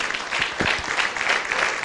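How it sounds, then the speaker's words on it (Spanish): Audience applause at a religious class or teaching program, a short dense burst of clapping heard on its own. "Ok, aplaudimos para recibir la palabra."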